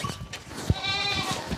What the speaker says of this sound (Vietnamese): Nhà Thà thì bên nhiều dê lắm.